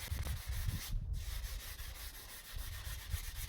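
A composite laminate worktop is rubbed by hand with 240 grit sandpaper, producing a continuous close scratchy rasp of back-and-forth strokes with one brief pause.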